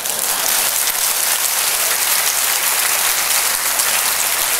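An audience at a talk breaks into dense, steady applause that holds at an even level throughout, with no voices standing out.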